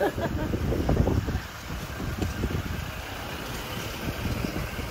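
Strong gusts buffet the microphone with heavy rumbling wind noise, loudest at first, then easing into a steady blustery roar.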